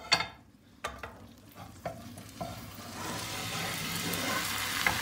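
Börek frying in a lightly oiled pan just after being flipped: a few sharp knocks and clatters from the pan, then a steady close sizzle that builds and holds, with no talking.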